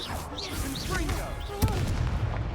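A Confringo blasting curse explodes in a Harry Potter video game, a sharp blast landing amid busy combat noise and whooshing spell effects, with voices talking over the scene.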